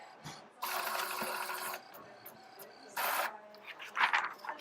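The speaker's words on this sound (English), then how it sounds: "My results are printing." A small lab printer in a veterinary clinical pathology setting prints out test results in two steady mechanical bursts, with a short pause between them and a little faint handling noise at the end.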